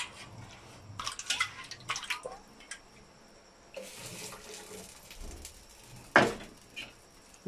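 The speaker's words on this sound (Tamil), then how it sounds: "இப்போ நல்லா வந்து குழம்பு கொதியுது" Curry bubbling and sputtering in a pot close by, with irregular pops and bursts over a low simmering hiss and no talking.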